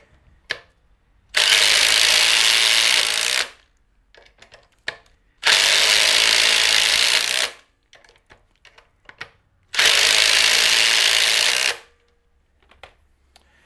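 Cordless power drivers sink 3-inch screws into a board in three separate runs, each a loud steady whir lasting about two seconds, with quiet gaps and small clicks and handling noises between them.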